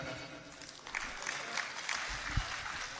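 A crowd at a Punjabi mela opening ceremony in Faisalabad gives steady, fairly faint applause, a dense patter of clapping that holds for the whole moment.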